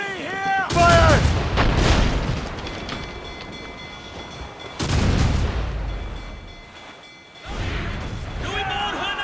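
Ship cannons firing during a naval battle in Assassin's Creed Rogue, heavy booms in a couple of bursts with rumbling tails, loud and close, with shouted orders around them.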